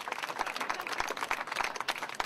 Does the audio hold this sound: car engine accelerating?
no